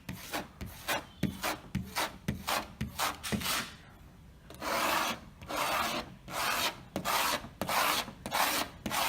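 Paint overspray is rubbed off a car surface in a rapid series of short, dry, rasping strokes, then longer hissing sweeps, all close and loud with no talking.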